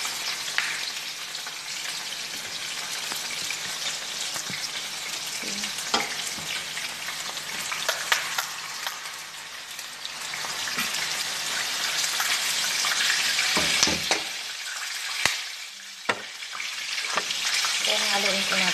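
Butter chicken cooking with onion, butter and ketchup in a pan: steady frying sizzle throughout with spoon stirring scrapes and occasional clinks, close and fairly loud, no talking.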